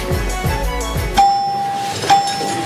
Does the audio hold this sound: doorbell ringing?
yes